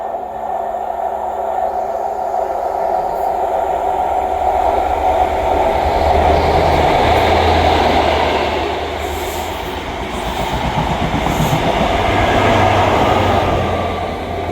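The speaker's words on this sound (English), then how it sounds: "Passing through now is the delayed 1513 ScotRail service from Aberdeen to Edinburgh Waverley." A delayed ScotRail service from Aberdeen to Edinburgh Waverley passes through a station near Dalmeny and North Queensferry, its heavy rolling rumble loud and continuous with swelling rail noise and faint high squeals, no voices.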